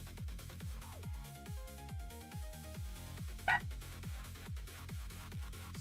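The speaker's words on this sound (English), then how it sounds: "wonder what he's barking at today." A dog barks repeatedly at a steady rhythm, fairly faint and somewhat distant, with one sharper sound partway through.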